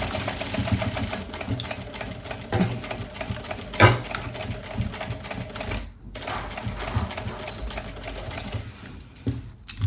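A sewing machine stitches the pocket of a kurti, a steady mechanical whirr running nearly the whole time with a brief pause near the middle.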